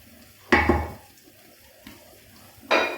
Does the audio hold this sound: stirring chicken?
yes